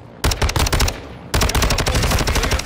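Sustained machine gun fire in Call of Duty Modern Warfare 2, two loud rapid bursts of rattling shots close by, separated by a brief pause.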